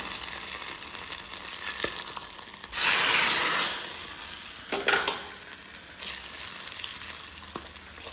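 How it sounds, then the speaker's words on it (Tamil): Okra tossed into hot oil already crackling with mustard seeds and vadagam, bursting into a loud, hissing sizzle that settles into steady frying with occasional stirring clatter, close up and without talk. "இப்போ வடகம் வந்து தாளிச்சுது வெண்டைக்காய் கடையில் வந்து சேர்த்துக்கலாம்"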